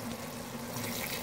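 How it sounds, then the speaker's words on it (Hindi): Water is poured steadily into a pot of potato and chickpea rice pulao, a continuous close splashing rush that lasts the whole moment without any voices. "अब पानी शामिल करेंगे"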